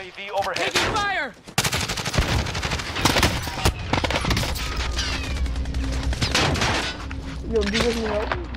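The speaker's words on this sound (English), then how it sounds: "Taking fire!" Call of Duty Modern Warfare Warzone gunfire, a dense run of loud automatic bursts and single cracks, near and continuous, mixed with game voice callouts and other in-game effects.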